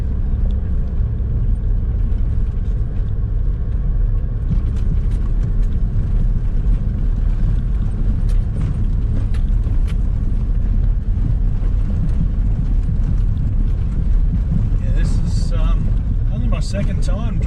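A vehicle grinds steadily up a dirt track on Blue Rag Range in the rain, a constant close engine and tyre rumble running throughout while someone talks over it.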